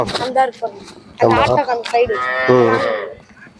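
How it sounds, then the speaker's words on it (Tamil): Cattle low and moo at a busy rural cattle market during the Kannapuram festival fair. Several drawn-out calls sound close by, mixed with the voices of people talking nearby. "இதெல்லாம் சரவணன் அவங்களுடைய மாடு"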